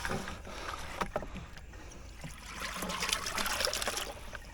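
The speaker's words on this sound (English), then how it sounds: "I'll put some water in there actually." Water splashing and trickling into a container at a yabby net on a lake, a faint, uneven sloshing with small bursts, no voices.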